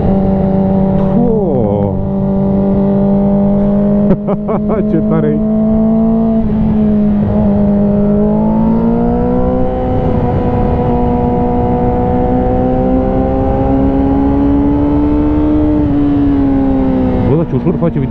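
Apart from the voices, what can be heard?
Yamaha R6 2006 motorcycle engine accelerating past 6000 rpm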